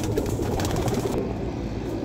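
Soft, low coos from teddy pigeons sound repeatedly against a steady background hum, fairly close and unhurried.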